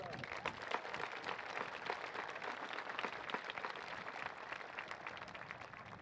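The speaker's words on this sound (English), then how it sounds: "Round of applause for all of them." A crowd at a high school graduation ceremony claps steadily for several seconds, a dense, sustained round of applause filling the room.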